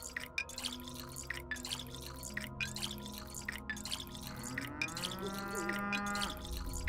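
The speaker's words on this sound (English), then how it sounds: "Do you hear that moo?" A cow in the video game Pathologic 2 moos several times in close succession, the low drawn-out calls sitting over a quiet game background, with a rising tonal sound near the end.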